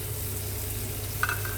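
Crispy pork belly slices being stirred into a sizzling sauce for Pad Kana Moo Krob with Chinese broccoli: a steady, close frying hiss throughout, with a brief scrape of the utensil near the end.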